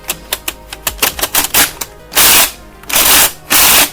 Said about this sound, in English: Every time that you prime the blaster, there's going to be these little flaps which help to agitate the darts